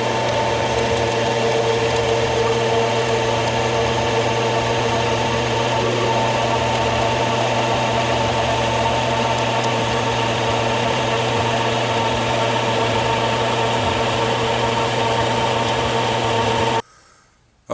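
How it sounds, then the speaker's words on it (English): A bandsaw in a metal shop runs steadily while cutting scrap metal stock, a continuous loud mechanical drone and hum with no talk, stopping abruptly near the end. "So let's go to the bandsaw and cut some stock off and lay this out on it."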